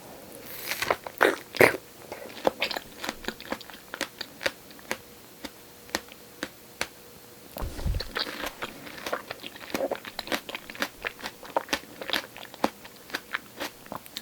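Fresh strawberries bitten and chewed up close for ASMR, giving a steady series of crisp, wet crunches and sharp bites with small squelching pauses between them. No voices.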